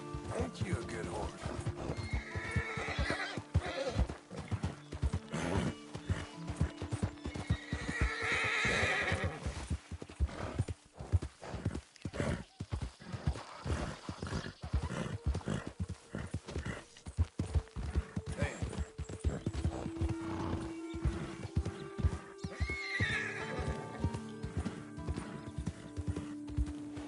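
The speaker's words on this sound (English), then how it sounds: "Ain't you a good horse?" Horse whinnies and steady clip-clopping hooves from Red Dead Redemption 2, with someone speaking gently to the horse over the hoofbeats and a soft music bed underneath.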